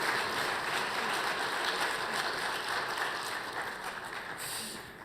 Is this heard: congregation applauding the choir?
yes